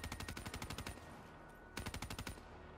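Rapid automatic gunfire from a weapon in a video game, two loud sustained bursts with a brief pause between them, close and steady in rhythm with no talking.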